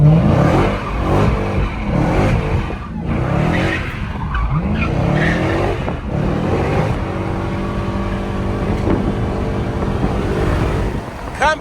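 Dodge Hellcat driven hard, with its engine roaring and tires screeching in loud sustained bursts; shouting voices and cabin noise run over the top throughout.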